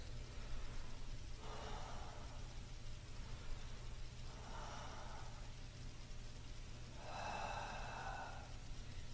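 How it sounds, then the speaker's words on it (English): Three slow, deep breaths taken during an exercise routine, each a soft, airy inhale or exhale spaced a few seconds apart over a steady low background hum. "3 deep breaths."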